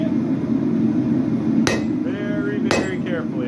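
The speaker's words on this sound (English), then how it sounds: "Alright, next we're going to be beveling it." Two sharp, ringing hammer blows land on a hot Japanese bunka knife blade during beveling, spaced about a second apart over a low steady roar of the forge, with brief metallic ring after each strike.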